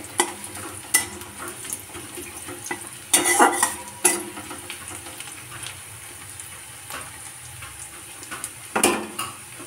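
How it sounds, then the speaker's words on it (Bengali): Onions browning in oil in a pan sizzle softly throughout, broken by sharp scraping and clinking as a utensil stirs them, with a few louder knocks against the pan. "পেঁয়াজ ভাজার গন্ধও বেরিয়ে গেছে।"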